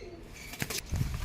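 A pigeon arrives and coos nearby during a pigeon flying contest, giving a short, soft, low coo after a brief flutter in fairly quiet surroundings.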